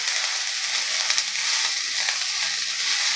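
Mixed vegetables with a little salt sauté in a pan for a Maharashtrian Bhogi mixed bhaji with green pea pods, a steady close hiss with faint stirring over the whole stretch and no talk.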